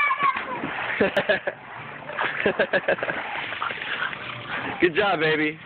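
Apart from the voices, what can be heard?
person doing a cannonball jump, splashing into water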